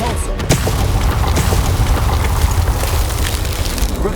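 A spell blast from Hogwarts Legacy, a loud booming burst at the start that rolls into a dense, rumbling roar lasting several seconds.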